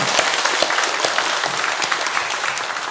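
Applause from a church congregation at a harvest thanksgiving service, a dense, steady, fairly close wash of clapping that lasts the whole time without talking.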